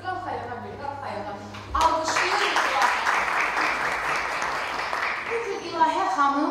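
An audience applauds at a music video presentation, with scattered claps building into sustained, fairly loud clapping from about two seconds in that carries on steadily to the end, while a voice speaks over the first part.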